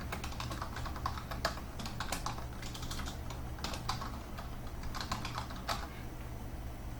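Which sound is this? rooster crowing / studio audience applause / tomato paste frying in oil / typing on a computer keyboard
typing on a computer keyboard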